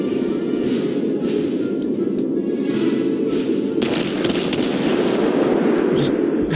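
Cannon fire in a naval video game comes as a series of booming thumps and cracks, with a louder, denser burst of shots midway, all heard up close under a speaking voice.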